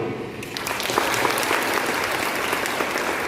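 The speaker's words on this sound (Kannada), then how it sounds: "ಚಪ್ಪಾಳೆ ತಟ್ಟುವ" Audience applause at a sociology department program's inauguration, a dense steady burst of clapping that builds in and holds throughout, fairly close.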